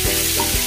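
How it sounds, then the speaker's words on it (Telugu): Green chillies sizzle steadily in a hot pan for chutney, a dense, loud, continuous frying hiss heard up close with no talking. "ఈ మూడు ఇంగ్రీడియంట్స్ కొంచెం బాగా ఫ్రై చేసుకొని తీసేసుకోవాలి"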